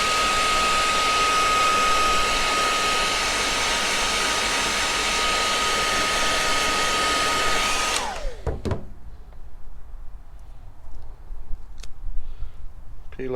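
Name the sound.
hair dryer heating LED indicator mounting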